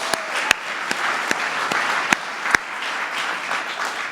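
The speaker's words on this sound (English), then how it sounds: "How about a big round of applause for those first 3 films?" An audience at the White House applauds a set of children's films, a sustained crowd clapping with a few sharp nearby claps standing out above the steady patter.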